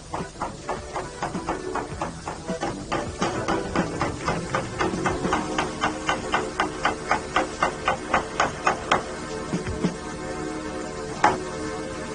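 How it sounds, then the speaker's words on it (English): A hammer peens the cover of a CV joint on a Peugeot 405 driveshaft, with a rapid, steady series of sharp metallic strikes, close and evenly spaced, thinning to a few final blows. "peen the cover"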